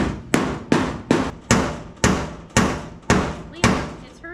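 Hammer banging a huge dent out of a 1979 Ford F250, nine sharp metallic blows at a steady rhythm with ringing decay, loud and close.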